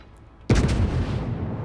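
A single heavy boom of warship guns firing shells in the naval video game World of Warships, a sharp loud blast after a quiet lead-in that rumbles and decays over about a second.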